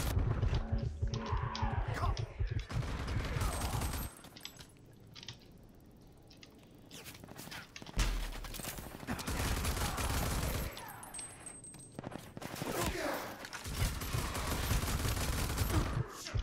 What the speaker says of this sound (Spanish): Deja que tirarles 50 balazos